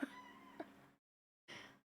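A house cat meows twice in quick succession, close and fairly quiet, the first call drawn out and the second shorter after a brief pause, with no talk over it.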